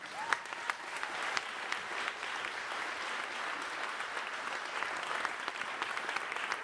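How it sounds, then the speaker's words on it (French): Dense, sustained applause from a large audience at a public conference debate on humour, a continuous wash of many hands clapping at steady loudness. "Je vous demande... d'applaudir François-Xavier de Maison"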